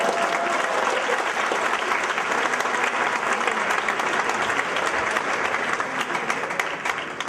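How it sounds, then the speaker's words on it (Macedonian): A stand-up comedy crowd at a Macedonian show breaks into steady, dense applause. The clapping stays loud and even for about seven seconds, with a little crowd noise mixed in. "Ке ви дат спонтан аплауз"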